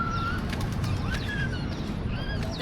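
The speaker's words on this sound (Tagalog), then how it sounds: "There's pigeon." A pigeon coos softly among a few bird calls, heard amid the steady background rumble of an outdoor street scene in Taipei.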